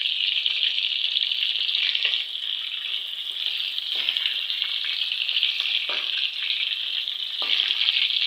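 Chicken karahi sizzles and fries steadily in a hot pan as large green chillies go in, a loud continuous hiss broken by a few soft stirring scrapes.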